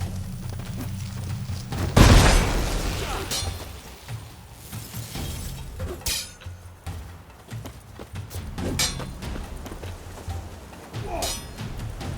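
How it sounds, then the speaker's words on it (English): A bomb goes off in the fantasy game Witcher 3: one loud, sharp blast about two seconds in, trailed by scattered clatter, thuds and softer impacts over a murky background. "Throw a bomb."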